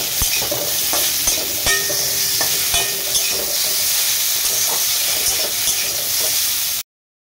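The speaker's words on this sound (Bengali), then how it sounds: "এবার এই তেলটা গরম হয়ে গেলে এর মধ্যেই সিদ্ধ করে রাখা চালতাটা দিয়ে দেবো" Boiled elephant apple being stirred in a little hot oil for pickle, a constant close sizzle broken by repeated scraping and clacking of a spatula against the pan, ending abruptly.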